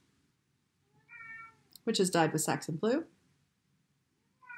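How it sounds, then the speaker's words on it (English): A cat meows indoors in the background, a short yowl followed by a louder, drawn-out series of meows, with someone talking quietly around it. "You can hear my cat screaming in the background"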